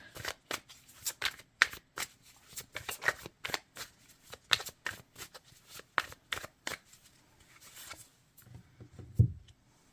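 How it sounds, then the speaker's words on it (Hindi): Tarot cards are shuffled and drawn during a reading, crisp repeated riffling and slapping bursts close to the mic with brief pauses between and a soft thump near the end. "मैं लास्ट 3 कार्ड निकालूंगी।"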